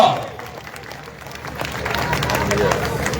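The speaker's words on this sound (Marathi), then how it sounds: "जोरदार टाळ्या वाजवायच्या एकदा जल्लोष पाहिजे जोरदार टाळ्या" Crowd clapping and cheering at a birthday celebration gathering in Indapur, a broad steady wash of applause that swells louder toward the end, with a voice briefly audible at the start.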